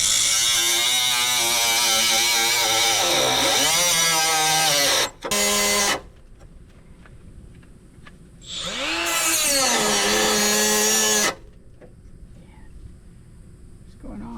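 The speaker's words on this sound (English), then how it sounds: "So now all I'm gonna do is I'm just gonna cut the nut and everything right off." Cutoff wheel slicing through a rusted nut on a Mazda 3 ball joint or strut, a loud high whine with a dipping pitch, two bursts of grinding split by short pauses, brief talk near the end.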